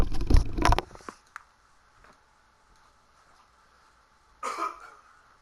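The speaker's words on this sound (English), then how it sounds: "I have to go blow my nose again" Someone with a cold blows their nose: a loud, close, raspy honking burst, a short quiet pause, then a second shorter blow.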